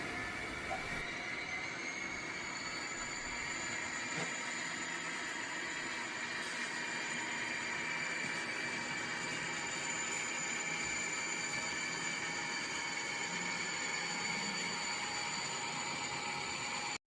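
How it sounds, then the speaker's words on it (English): A model railroad NECR interchange train running on track, a steady continuous rolling hum with faint high wheel squeal throughout, quiet and even, with no talking. "NECR interchange train coming back on track 1."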